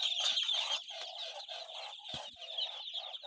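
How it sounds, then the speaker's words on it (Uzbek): Large roosters on a poultry farm cluck and call in a dense, continuous flock chorus, with a few louder, sharper calls rising out of the steady noise. "Mana bular esa bobo xo'rozlar."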